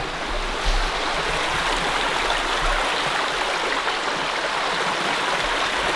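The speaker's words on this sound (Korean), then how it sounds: "이 캠핑장은 이 계곡 때문에 진짜 한 8알은 하는 것 같아" Constant rushing of a mountain stream in a forested valley beside a campsite, loud, close and steady throughout with no voices.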